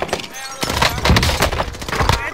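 Rapid bursts of assault rifle gunfire crackle through a video game battle, a dense run of sharp close shots with scattered louder reports, under a busy mix of game sound.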